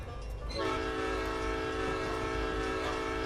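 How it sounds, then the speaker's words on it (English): A diesel locomotive's multi-chime horn sounds in the Railworks train simulator game on a route to the mines, starting after a brief moment of rumble and then holding as a loud, steady blast over the running engine. "Sound the horn."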